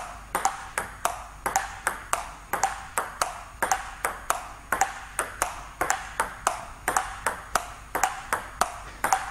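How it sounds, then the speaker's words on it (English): A table tennis ball is struck back and forth in a steady rally, sharp close pings coming roughly three times a second in an even rhythm with no talking. "The sound of the ball tells me when I need to hit the ball."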